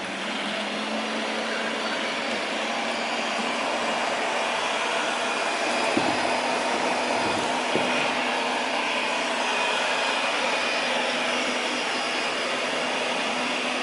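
Vacuum cleaner running at maximum suction on carpet, a steady loud whooshing roar with a constant tone, a couple of faint clicks partway through, and no voices.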